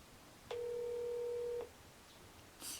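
A phone call rings out with a single steady electronic tone held for about a second in a quiet room, followed by a faint brief blip.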